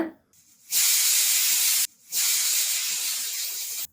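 A pressure cooker on medium flame, cooking village-style mutton gravy, releases steam in two loud, close hissing bursts, each over a second long, separated by a brief quiet gap.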